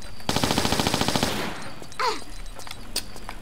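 Automatic gunfire in the Tomb Raider IV video game, a rapid burst of about a dozen loud close shots followed by quieter in-game effects and a few sharp hits.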